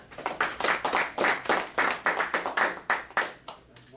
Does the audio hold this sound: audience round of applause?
yes